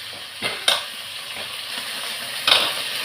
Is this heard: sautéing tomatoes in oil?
yes